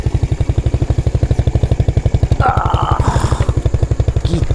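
Motorcycle engine running close by with a steady, fast pulsing throb that holds throughout, with a brief metallic clatter and some rattling partway through.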